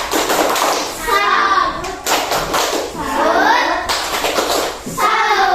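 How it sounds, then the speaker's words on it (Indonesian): Schoolchildren in a classroom perform a rhythmic tepuk salut clapping chant together, young voices chanting loudly in bursts with clapping and thumping hands mixed into the chant. "Kalau sudah benar dua kelompok, tepuk salut untuk kedua kelompoknya."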